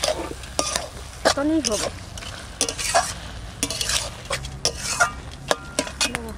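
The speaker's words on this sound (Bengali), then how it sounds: "এবারে বাটা মশলাটা দিয়ে দেবো।" Ground spice paste is stirred and fried in a pan for a vegetarian taro dish, with repeated scraping strokes over a soft sizzle and a brief spoken phrase.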